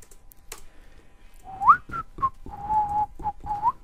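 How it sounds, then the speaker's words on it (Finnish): A person whistles a short, wandering tune of rising and held notes during a hardcore Minecraft session, close and clear with quiet game sounds in the gaps. "Mä alan aina viheltelee, kun loppuu puhuminen."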